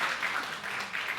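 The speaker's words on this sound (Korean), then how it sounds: "우리 불쌍한 60대들을 위하여 박수 한번 해주시죠." A church congregation at a Sunday morning service claps for people in their sixties: a brief burst of steady, moderately loud applause filling the hall.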